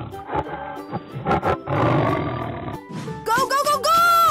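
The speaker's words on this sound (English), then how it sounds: "Tiger." Tiger roaring in a 3D animal slide video game: a loud, rough roar over a second long, followed by sharper bursts of growling and grunting, with brief voices around it.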